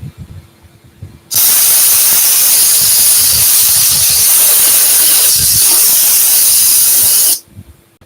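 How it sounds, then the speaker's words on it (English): An orbital sander sands wood turned on a lathe. The sander starts abruptly, then gives about six seconds of loud, steady, close hissing whir before cutting off, with faint thumps before and after. "I'm going to go ahead and make a pass with my my orbital sander"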